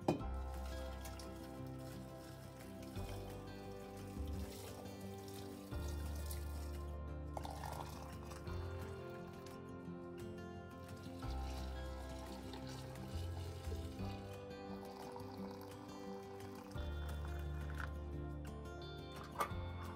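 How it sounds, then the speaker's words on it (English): Boiling water poured steadily into glass jars, filling each to the very top in a long, quiet, continuous trickle and gurgle with small pauses between jars. "Pour the boiling water into the jars to the very top."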